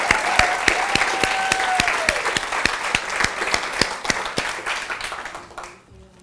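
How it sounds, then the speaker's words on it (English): Audience applause for two girls who have just spoken at an evening event about women: dense, close rhythmic clapping from a crowd, strong at first, then gradually thinning and fading out. "Let's give both girls a round of applause so far."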